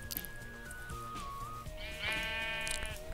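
A sheep in Minecraft bleats in two wavering, drawn-out calls over steady background game sound, fairly close and clear with no talking.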